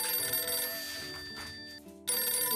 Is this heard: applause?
no